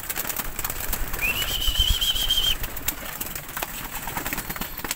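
Pigeons give a soft, rounded cooing call that rises briefly over a steady outdoor hum, with faint wing flutters nearby; no one speaks.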